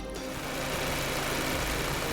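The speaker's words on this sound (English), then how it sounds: "serious engine vibrations caused by a defective alternator pulley, especially at idle speed" An idling engine shudders from a defective alternator pulley, a steady close-up rumbling vibration with a faint mechanical rattle running throughout, no voices.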